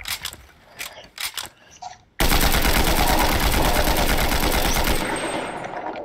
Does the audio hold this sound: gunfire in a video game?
yes